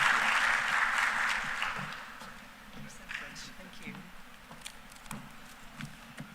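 Conference audience applauding at a renewable energy expo, a dense broad clatter of clapping that is loudest at the start, then thins and fades into scattered claps over the following seconds.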